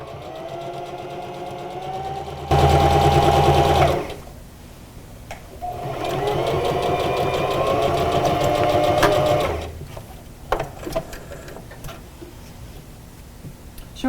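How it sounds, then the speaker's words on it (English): Sewing machine stitching down folded seams on a homemade fabric mask: two close whirring runs, a short burst then a longer steady one, with ticking handling noises between and after. "folding over the seam, and then sewing those down"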